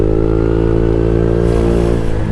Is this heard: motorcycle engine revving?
yes